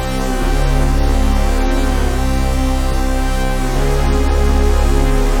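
A dense, loud bass line holding full sustained notes that change every second or two, layered under a thick continuous musical bed in a hip-hop production.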